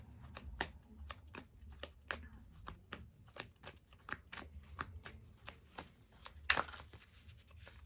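Tarot cards are shuffled close up in a steady run of quick riffling flicks and soft slaps, with one sharper burst near the end and no talking.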